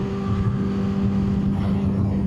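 Kawasaki Ninja H2 motorcycle engine heard on the move, a loud, steady, close-up drone with a strong low hum and no break in the sound.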